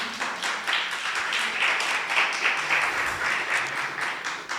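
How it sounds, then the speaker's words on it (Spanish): A church congregation applauds during a fasting and prayer service, a steady wash of clapping at moderate level with a few faint voices underneath. "denle un aplauso a aquellos que trajeron Biblia"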